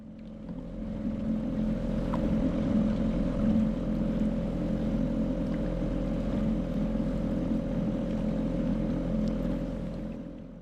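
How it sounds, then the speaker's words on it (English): A 3.3 horsepower outboard motor on a small inflatable boat running at trolling speed while fishing, a steady low drone that holds evenly throughout with no voices. "used outboard power and tick over while trolling my fishing lure"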